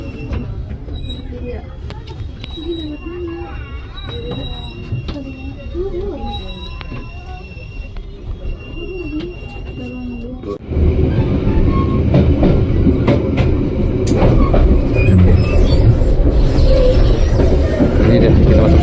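A local Merak train rolls into Catang station over a curved turnout, first a quieter cabin rumble with wheel squeals and voices, then a sudden louder surge of rail noise and clattering wheels.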